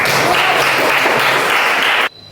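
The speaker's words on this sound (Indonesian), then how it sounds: "terima kasih. Tepukan." Students in a Catholic religious education classroom give a brisk, even round of applause for about two seconds before it cuts off abruptly.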